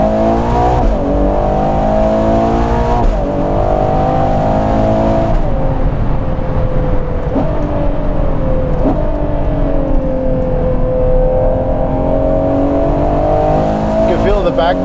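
A Ferrari Purosangue engine hums steadily under load throughout, its pitch rising and dipping with throttle changes during an interior drive, while people talk over it.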